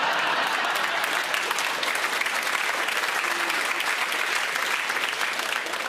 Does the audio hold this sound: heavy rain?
no